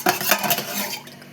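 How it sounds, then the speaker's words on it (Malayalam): A drink being stirred and mixed with water in a vessel, with short clinking scrapes of a spoon against the container, close and fairly loud at the start, then easing off over about a second. "ഇനി നമുക്ക് മിക്സ് ചെയ്യാം നല്ലപോലെ"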